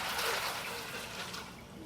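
Ice water poured into a pot of salt brine for meat makes a steady, moderately quiet liquid trickle and splash that runs without a break from start to end.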